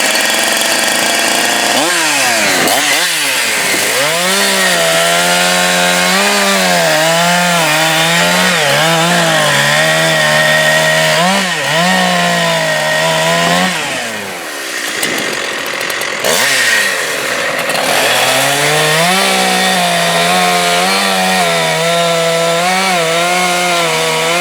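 A Husqvarna 372xpw hybrid chainsaw bucking logs at a landing, loud and close, its engine revving and bogging as it cuts through wood, with a brief idle dip midway before cutting resumes.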